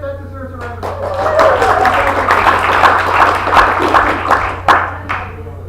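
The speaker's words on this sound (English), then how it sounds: "that deserves a round of applause" Audience applause breaks out during a theatre roundtable about Olympia Little Theater, a dense patter of clapping that swells for several seconds while voices keep talking over it.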